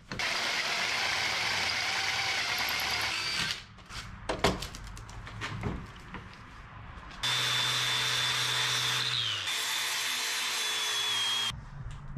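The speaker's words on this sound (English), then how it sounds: "Drill us a little pilot there." Power drill boring a pilot hole in metal for a tab while repairing a 1981 mini truck, its whine rising in two sustained bursts with a quieter stretch of rattling and tool handling between, close and alone.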